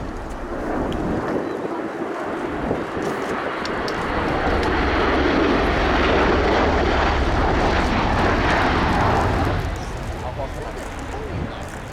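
A Boeing CV-22B Osprey tiltrotor of the US Air Force roars past at the RIAT 2023 airshow, a loud broad engine and rotor rumble that swells and fades, with wind buffeting and a commentator talking over it.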